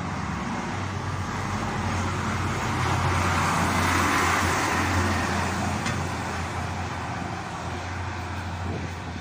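Steady traffic roar from cars rushing along a French national road, a continuous broadband wash that swells slightly mid-way, with a low hum beneath and no voices.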